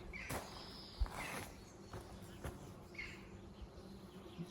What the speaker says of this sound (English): The sound underneath it of the bees